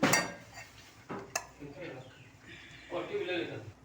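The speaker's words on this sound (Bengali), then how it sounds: "এখন ঢাকা দিয়ে দিব" A lid goes onto a cooking pot of tender sweet pumpkin shoots on an electric heater, giving a couple of sharp metallic clinks followed by quieter handling noises, with soft talk in the background.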